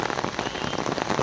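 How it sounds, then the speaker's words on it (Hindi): A heavy downpour pelts a pond in Nainital, a dense, continuous hiss of close rain with no gaps and no voices. "मूसलाधार बारिश हो रही है और कुछ युवा स्विमिंग कर रहे हैं तालाब में"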